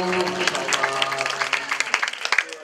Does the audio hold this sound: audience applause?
yes